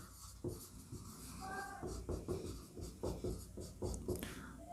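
Chalk or marker scratches and taps across a classroom board during a Class 12 maths lesson on vectors, short strokes in a loose rhythm over room noise.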